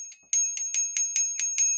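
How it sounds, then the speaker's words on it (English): An old-style bicycle bell clamped to a handlebar rings in a quick series of about seven bright, metallic dings, close and clear with no talking. "kind of old style bicycle bell like I used to have"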